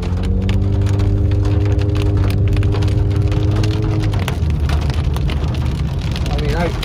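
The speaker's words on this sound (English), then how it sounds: "I don't know if you guys can see some of the big hailstones coming down." Heavy rain and dime-size hail pound down hard and steady in a loud thunderstorm, heard from inside a vehicle. A few soft chiming tones ring through the downpour early on, and the dense drumming carries on throughout.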